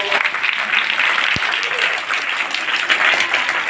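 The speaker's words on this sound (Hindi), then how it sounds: "इनके लिए 2000 तालियां बजाओ।" Children applaud at a school farewell ceremony, a loud, dense wash of clapping that holds steady throughout.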